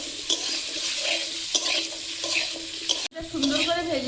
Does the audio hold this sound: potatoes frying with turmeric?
yes